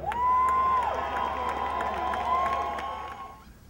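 A large outdoor crowd cheering and applauding at Parc de la Cité in Brossard during a patriotic celebration, a steady distant roar of voices and clapping that fades toward the end.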